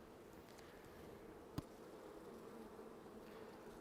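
Honey bees, drones among them, crowd a hive frame where fresh comb is being built, giving a soft, steady close-up hum broken by one brief click.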